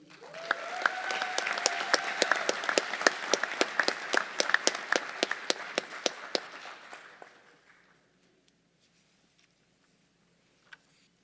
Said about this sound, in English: Please give a round of applause for the recipient